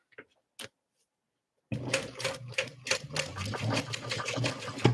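After a couple of faint taps and a short silence, a sewing machine starts stitching through vinyl at a long stitch length, its fast, rhythmic needle chatter close and steady for the remaining few seconds.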